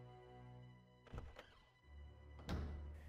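Door in RuneScape 3 opening with a couple of soft thunks followed by a heavier low thud, faint and close, with no talk.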